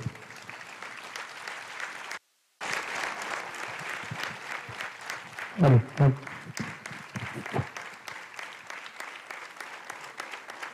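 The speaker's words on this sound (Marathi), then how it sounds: "त्यांनी आपल्या जागेवर उभं राहून एकदा जोरात टाळ्या वाजवून आपण अनुराधाताईंचं हार्दिक अभिनंदन करूया." A standing audience applauds Anuradha Paudwal at a memorial lecture series function, steady sustained clapping filling the hall, with a brief drop-out early on and a few louder bumps near the middle.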